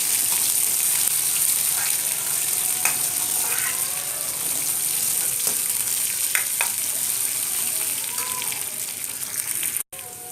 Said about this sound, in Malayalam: ഒരു ടേബിൾ സ്പൂൺ അല്ലെങ്കിൽ ഒരു ടീസ്പൂൺ ഇഞ്ചി ചെറുതായിട്ട് അരിഞ്ഞത്, 2 പച്ചമുളക് ചെറുതായിട്ട് അരിഞ്ഞത് ഇട്ട് നന്നായിട്ട് വഴറ്റണം.